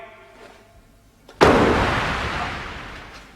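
A single loud, close explosion in a Doctor Who episode bursts suddenly and rumbles away slowly over a couple of seconds, with faint background sound before it.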